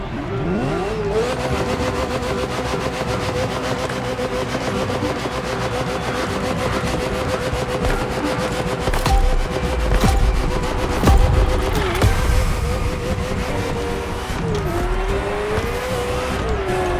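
A Ferrari F40 supercar in the racing game The Crew Motorfest revs its engine hard with sustained, steady roar and shifting pitch, punctuated by tire squeals and skids; loud and close throughout with no talking.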